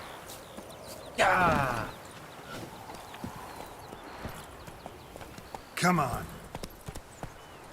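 Roach the horse from The Witcher 3 clip-clops through two loud bursts of hooves and snorting, with a voice talking over the quieter stretches between them.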